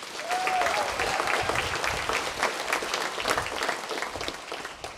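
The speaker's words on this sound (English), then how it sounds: "but let's give her a big round of applause" Steady, full audience applause at a Hall of Fame banquet, a dense wash of clapping that holds for several seconds and tapers slightly toward the end.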